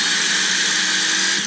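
A DeWalt DCD776 18V cordless drill whirs steadily and loudly for a short burst, driving a 7mm bit straight down into a piece of wood, with no voices over it.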